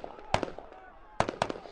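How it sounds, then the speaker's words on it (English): Soldiers fire guns into the air, three or four sharp cracking reports with short echoing tails, near and loud, in a tense crowded street with faint voices underneath. "Soldiers firing in the air."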